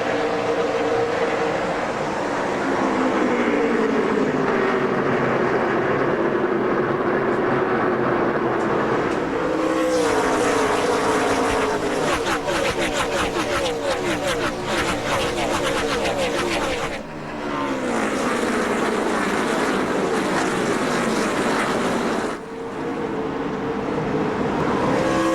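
Loud roar of NASCAR Nextel Cup race cars at the green flag of the 2005 New England 300, engines droning continuously with rising passes and a brief dip near the end, no talk.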